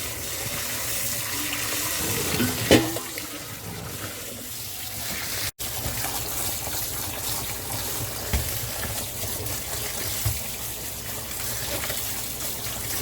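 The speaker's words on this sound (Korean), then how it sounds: "국수가 다 돼서 찬물로 헹궈줍니다." Cold tap water runs and splashes steadily as cooked noodles are rinsed in a kitchen sink, a continuous close gushing sound with a few brief handling bumps.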